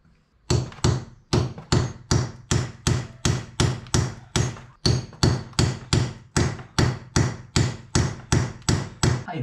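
Steady hammer blows ring out during a Yamaha Grizzly 700 ATV service, about twenty sharp metallic strikes in a quick, even rhythm with only a short pause partway through, loud and close.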